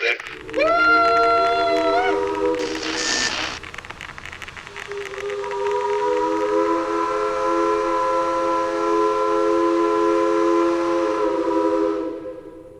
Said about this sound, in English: the very unusual blast of an old locomotive steam whistle echoing through the building